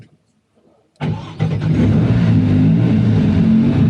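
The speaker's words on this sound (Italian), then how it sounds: "andiamo a provare questa Maserati GT2, 630 cavalli, auto con tantissima coppia" A 630-horsepower Maserati MC20 GT2 race car fires up after a second of near silence, its engine catching abruptly and settling into a loud, steady, deep idle that fills the rest of the moment.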